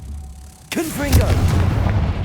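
Confringo blast spell cast in Hogwarts Legacy, a sudden loud burst of a booming fiery impact that kicks in abruptly and rumbles on, with a rising magical whoosh and a low humming tail, a voice sounding faintly behind it.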